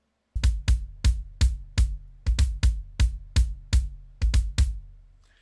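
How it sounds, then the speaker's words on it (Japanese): Kick drum track recorded with bleed from the snare mic: a steady series of about fourteen punchy bass drum hits, each trailed by a faint rattling snare-wire buzz, close and loud with no voices. "ここに何かスネアのスナッピーのような音が入っています。"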